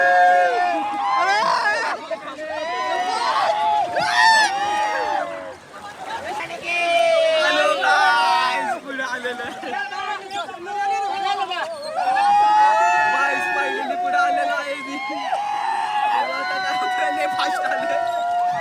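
A crowd at the busy Savatkada waterfall keeps up a dense, steady hubbub of many overlapping voices, with close chatter and calls filling the whole stretch without a break.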